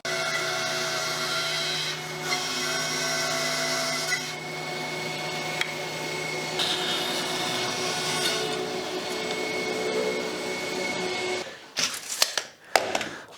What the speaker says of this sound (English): I'll do that on the bandsaw.